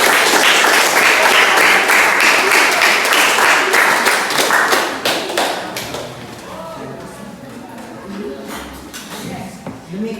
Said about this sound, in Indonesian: mari kita berikan aplaus yang meriah untuk kita semua